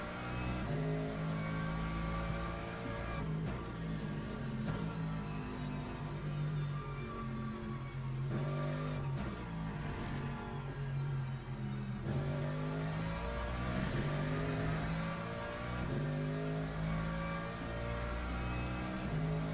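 A GT3 race car engine in Le Mans Ultimate drones steadily with rising and falling revs as the driver works the throttle, loud and continuous with gear shifts audible and no talk.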